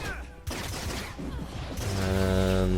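A bomb goes off in the mobile game Marvel Strike Force, a burst of crackling, rattling explosive noise that swells into a louder, ringing blast toward the end.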